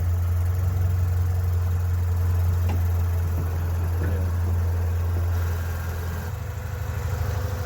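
A Honda Civic or Acura RSX on maxed-out Raceland coilovers drives off bricks, its engine a steady low idle-like hum close by that shifts to a rougher, pulsing note near the end.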